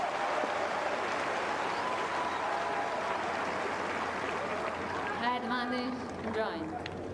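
Tennis crowd applauding and cheering during a Świątek versus Joint match at the 2025 Seoul tournament: a dense, steady roar of clapping that fades slightly toward the end, with a voice briefly rising over it.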